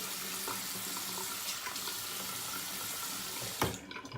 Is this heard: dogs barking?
no